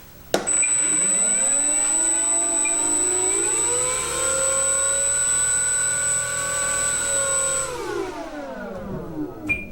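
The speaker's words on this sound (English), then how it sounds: "There we go. Motor on." The electric motor of an Arrows RC Red Husky 1800 model airplane spins up sharply and holds a loud, steady whine with a rising pitch before winding down near the end, with no talk over it.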